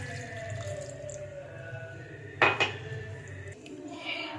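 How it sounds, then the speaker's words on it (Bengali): Water from a measuring cup is added to a metal pot holding half a cup of Gobindobhog rice, with a brief splashy pour and clinks of the pot over a low steady background, and no talking. "পুরো ফুল মেজার করে 1 কাপ জল আমি এর মধ্যে দিয়ে দিচ্ছি"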